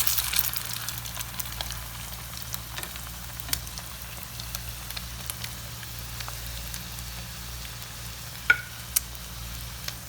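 Chicken shami kababs fry gently in a pan with a faint, steady oil sizzle, scattered soft pops and crackles, and a low stove hum underneath.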